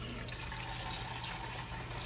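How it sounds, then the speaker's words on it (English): Liquid pours steadily into a pan beside a raw pork shoulder being braised, a continuous soft wash of splashing with no other sound. "Just pour that right beside the pork."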